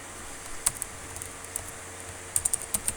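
Keys clatter on a computer keyboard in short irregular bursts of typing, close and fairly quiet, with a clustered run of taps near the end and no talking.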